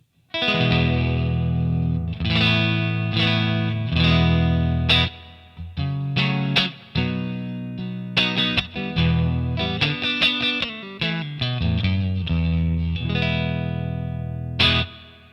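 Electric guitar clean tone through a Revv D20 amp with a shimmering chorus-like effect, sustained chords and melodic notes ringing out with a lingering spring reverb tail.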